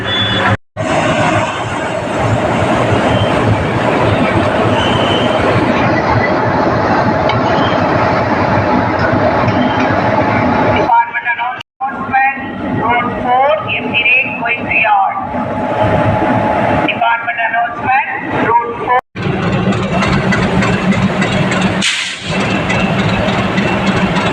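A Vande Bharat Express train runs on the line, a continuous loud rumble of wheels and carriage noise with brief dips, heard from inside the coach while a person talks over it.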